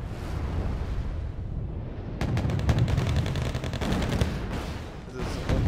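Mars rocket artillery salvo in Wargame Red Dragon, a rapid ripple of launches and booming impacts rolling over a rumbling battlefield din, loud and sustained for several seconds.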